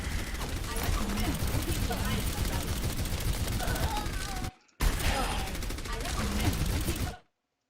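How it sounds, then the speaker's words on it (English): Rapid gunfire in the Overwatch video game during a fight: dense, continuous automatic shots with clatter and effects, a brief gap partway through, then more firing that cuts off abruptly, with voices mixed in. "You shooting Moira in the waist?"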